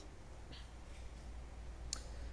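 A computer mouse gives two faint, sharp clicks, spaced more than a second apart, over a low, steady room hum with no talking.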